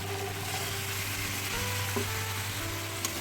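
Goat meat and potatoes sizzle steadily in a hot pan as spice-rinse water is poured in, a continuous close frying hiss with a low steady hum underneath and a few small clinks, no voices.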